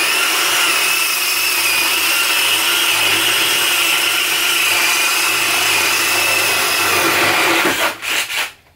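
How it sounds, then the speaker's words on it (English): A spade paddle drill bit bores into timber under added pressure, a loud continuous grinding, whirring drone that holds steady for about seven seconds, then cuts off with a few short bursts as the drill stops. "let's put a little bit more pressure and see how much difference it makes"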